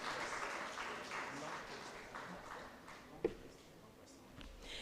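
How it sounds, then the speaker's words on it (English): Faint applause from a conference audience at a panel on AI in Africa, a soft spread of clapping that gradually thins out, with one sharp knock standing out near the end. "A round of applause, please."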